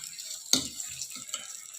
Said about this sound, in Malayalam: ചിക്കൻ പൊരിക്കുകയാണേ